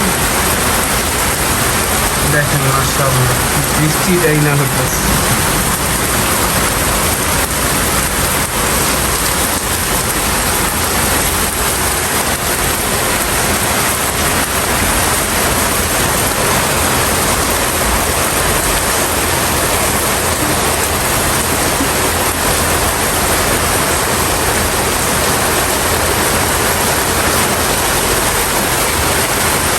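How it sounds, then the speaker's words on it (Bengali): Steady rain pours down at a home with goats nearby, a dense continuous hiss that fills the whole stretch evenly, with faint speech briefly audible near the start. "খুব সুন্দর একটা বৃষ্টি হচ্ছে"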